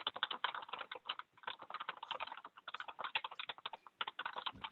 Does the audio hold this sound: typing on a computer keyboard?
yes